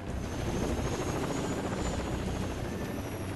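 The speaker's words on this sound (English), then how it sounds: "And a helicopter." A helicopter in the shooter game Rainbow Six Vegas 2 drones with a steady rotor throb and engine hum, loud and continuous throughout with no speech.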